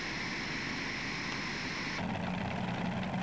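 A tractor engine roars steadily at a tractor pulling competition, a continuous loud drone with no pauses that shifts in tone partway through.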